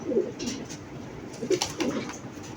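Racer pigeons kept for sale coo in a few low, soft murmurs spaced across a couple of seconds, fairly close, with faint background noise and no talk.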